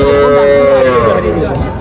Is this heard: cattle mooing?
yes